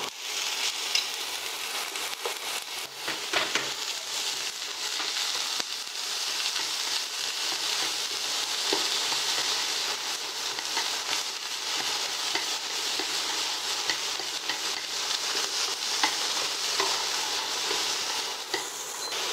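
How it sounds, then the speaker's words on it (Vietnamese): Onion, garlic and bitter melon stir-fried in hot oil for a bitter melon and egg dish: a steady, close, bright sizzle with continuous stirring, no voices. "Khi phi thơm hành tỏi, Duy sẽ cho mướp đắng vào."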